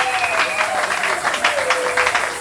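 A church congregation applauds and cheers during a Sunday service, a dense, steady wash of clapping that continues without pause, with a faint held tone running underneath.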